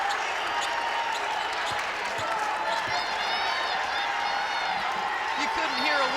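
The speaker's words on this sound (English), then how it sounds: "The crowd getting after it after West Virginia, a 12-2 run." Basketball arena crowd roaring and cheering loudly and continuously during a West Virginia scoring run in a women's college game against Kansas State, with a commentator talking over the din.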